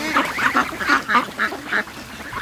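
Ducks quack rapidly and loudly while feeding on their morning food, a close, bunched series of harsh calls with no talk.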